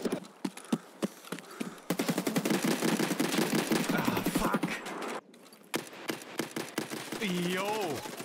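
Rapid automatic gunfire in Escape From Tarkov, long sharp bursts of close shots rattling in quick succession with short pauses between them, while someone talks and shouts over the shooting.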